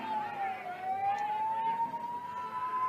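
An ambulance siren drones in a steady, slowly rising wail as it pushes through a dense crowd at a political gathering, moderately loud under the murmur and calls of the crowd.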